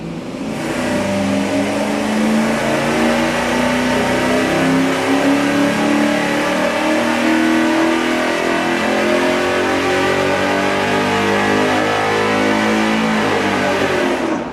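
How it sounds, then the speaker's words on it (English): An engine revving hard on a dyno, breathing through a single exhaust with a Y merge and a straight-through muffler: a loud, sustained, rising roar that holds steady at high rpm with no voices. "We're gonna do that single exhaust with the Y merge with the straight through muffler."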